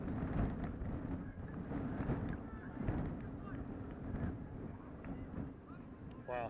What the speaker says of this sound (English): This wind is intense.